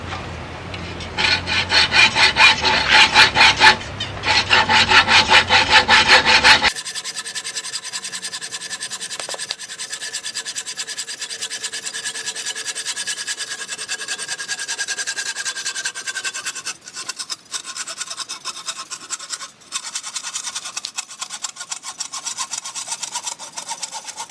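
A hand saw blade cuts a curve through bamboo in steady back-and-forth rasping strokes, loud and close, with a brief pause near the start.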